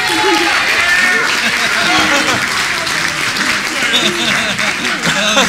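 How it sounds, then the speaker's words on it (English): An audience at a wedding reception applauding after a best man's speech, with clapping mixed into a busy crowd murmur and voices talking underneath. "Ladies and gentlemen, a round of applause,"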